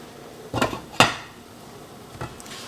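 Metal lid set onto a cooking pot of butter chicken sauce in a home kitchen: a few sharp clinks, two close clanks about half a second apart and a lighter tap after, with quiet between.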